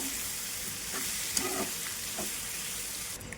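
Potatoes and onions fry in a pan over a medium flame while a utensil gently stirs them. A soft continuous sizzle runs throughout, broken by a few quiet scrapes and clicks. No one talks.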